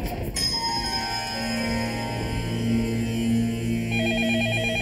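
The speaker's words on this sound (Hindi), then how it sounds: "जाइए, फोन उठाइए।" A steady electronic telephone ring pulses on over a low background hum, with a warbling trill joining near the end.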